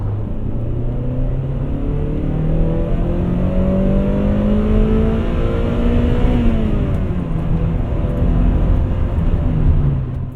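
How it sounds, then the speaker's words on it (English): A 2000 Honda Prelude coupe on a test drive, its engine droning steadily from inside the cabin, pitch climbing through the gears with one shift midway, loud and continuous with road rumble underneath. "We finished our test drive of the 2000 Honda Prelude"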